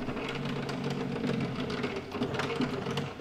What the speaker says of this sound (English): when we retract our hose, not only do we need to actually push the button here to retract it